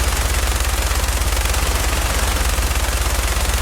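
Fire wheel weapon firing in Fallout 4, a rapid, loud, continuous stream of evenly spaced mechanical shots with an unbroken rhythmic rattle.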